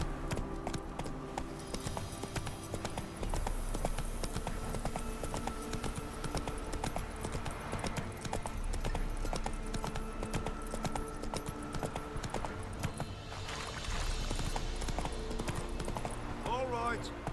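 Roach the horse's hooves clip-clop in a steady galloping rhythm in The Witcher 3, mixed with game music and someone talking over it.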